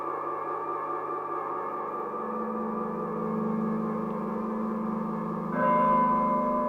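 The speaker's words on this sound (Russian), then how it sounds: "Колокол зазвучал на другой день, созывая судей" A church bell rings with a long, sustained humming tone that swells slowly, and a fresh, brighter strike lands near the end and rings on loudly.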